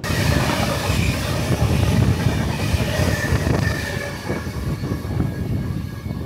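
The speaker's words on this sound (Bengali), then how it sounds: "আমাদের ট্রেন ছেড়ে দিল জোলারপেটায় জংশন" An Amrit Bharat Express train pulls out of Jolarpettai Junction with a loud, steady rolling rumble of wheels on rails and faint squeals, heard close from onboard and easing slightly near the end.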